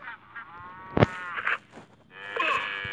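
A cow in the video game Survivalcraft lets out harmonic, strained moos as it dies, with a sharp hit sound in the middle and a longer final low call, loud and close with no talk over it.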